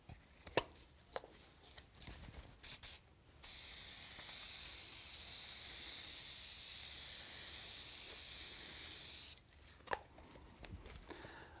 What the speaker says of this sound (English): I put a light coating of spray adhesive on the back of the liner